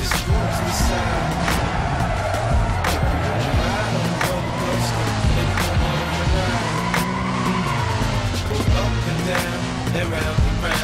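A car cruises in the video game Need for Speed Most Wanted with a loud continuous engine drone and tire squeal, under music with a singing voice throughout.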